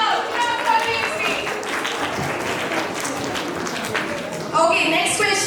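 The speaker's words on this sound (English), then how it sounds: "Clap for Team C." An audience at a school space science quiz competition claps for a team, steady applause across the stretch that swells louder near the end, with voices mixed in.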